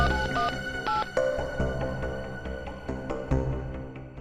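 A quick series of short, bright dialing tones, two in a row and then more irregular beeps, over a busy, cluttered background.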